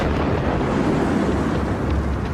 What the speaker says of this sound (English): a moment of eerie silence precedes the sonic bang.